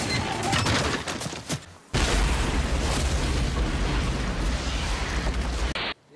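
A grenade blast on a staircase in the House of the Dead film, a loud booming explosion with roaring debris that rumbles on for several seconds after some scattered earlier crashes.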